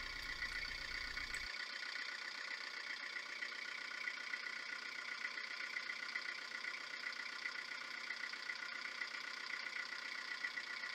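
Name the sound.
narrowboat engine running after gearbox oil change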